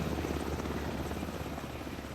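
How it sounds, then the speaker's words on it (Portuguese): A helicopter in the video game Alan Wake 2 roars close and loud, a steady rotor thrum filling the whole short stretch without pause. "É literalmente um helicóptero"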